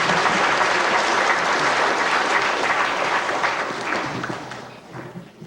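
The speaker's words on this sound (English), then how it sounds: "Judges, big round of applause for Julie." A crowd at a 1992 Wakefield fourth-grade spelling bee claps in a loud, sustained burst of applause that slowly tapers off toward the end.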